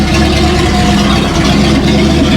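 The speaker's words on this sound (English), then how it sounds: "Will it idle? Oh yeah. Sounds good. No mufflers." A 1937 Ford pickup engine idles with no mufflers, a steady, loud, throaty rumble that stays close and unbroken throughout, with no talking over it.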